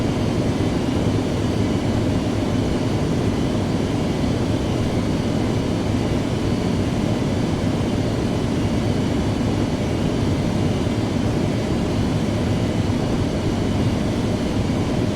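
Steady, loud cockpit drone of an aircraft in the Prepar3D flight simulator game, an unbroken engine and airflow roar holding constant throughout with no talk.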